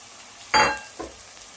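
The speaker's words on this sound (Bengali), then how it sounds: "ঢেলে দিয়ে বন্ধুরা কষাতে লাগবো, ভালো করে কষিয়ে নিতে হবে।" Sour curdled yogurt, about 200 grams, poured into hot spice paste in a pan for a dahi katla curry, giving one loud sizzling burst that quickly fades, then a softer second hiss; no talking.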